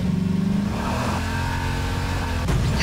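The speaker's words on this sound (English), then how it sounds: "Alright, get in the tractor" Tractor engine in the Garry's Mod sandbox game, a loud continuous motor drone with steady revving that shifts pitch as the vehicle drives, briefly swelling near the end.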